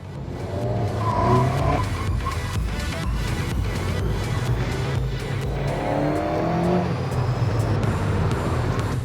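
Race car cornering through the tight S-bend on the Monaco street circuit, tires squealing and skidding as the engine drones steadily; loud and close throughout, with no talk.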